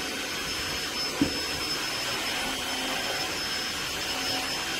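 A Floor One S3 Extreme wet/dry vacuum runs at max mode with a steady, loud whine and broad airflow roar, holding constant throughout with one brief knock near the start.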